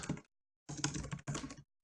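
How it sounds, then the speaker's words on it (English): Quick bursts of typing on a computer keyboard, close and crisp, in three short runs of clattering keystrokes separated by brief silences. "I am not used to this keyboard at all."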